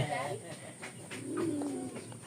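Soft cooing of a pair of pigeons at a pigeon market, a low murmuring coo rising midway, under a busy background with other voices and noise nearby.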